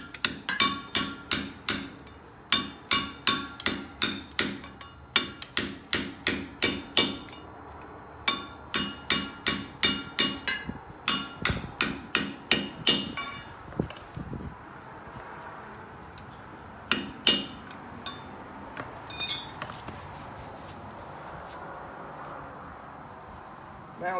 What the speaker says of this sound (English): I'm going to grab my punch and really bend it flat up against that nut